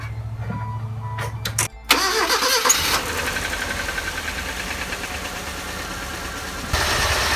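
A car engine cranks briefly, catches and settles into a steady idle after engine work, running smoothly and fairly loud and close, with no talk over it.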